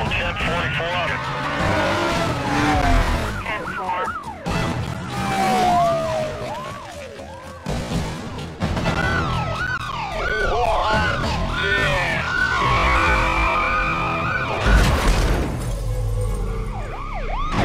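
Police car sirens wailing and overlapping during a high-speed chase in the video game Need for Speed Carbon, loud and continuous over roaring engines, with radio voices talking throughout.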